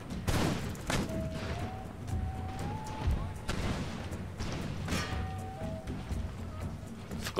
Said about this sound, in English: Forgot about the cannons.